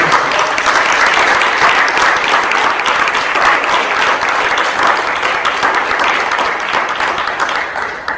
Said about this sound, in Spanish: Si le va a dar un aplauso de ese, lo fuerte.